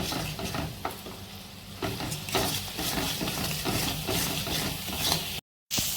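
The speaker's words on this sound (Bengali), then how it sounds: "অল্প অল্প জল দিয়ে আমি কষিয়ে নেব ভালো করে, যতক্ষণ না কাঁচা গন্ধটা যাবে ততক্ষণ কষাবো।" Tangra fish curry is sautéed in a pan with chili powder and a little water, giving a continuous close sizzle broken by repeated spatula scrapes and stirs, with a brief dropout near the end.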